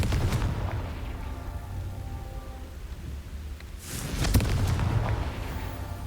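Confringo fire-spell blasts in Hogwarts Legacy go off as deep booming explosions, a rumble early on and then a louder burst near the end, with some crackling in the game's combat background.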